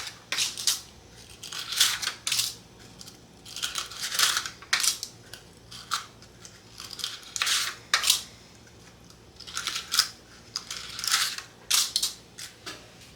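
Paper liners are placed into a six-count large muffin tin, giving repeated crisp rustling and crinkling bursts in irregular clusters, close and alone.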